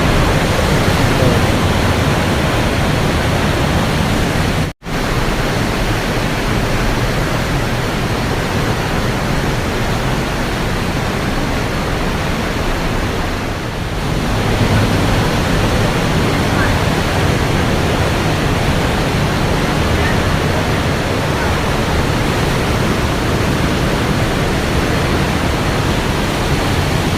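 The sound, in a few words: Rhine Falls waterfall roaring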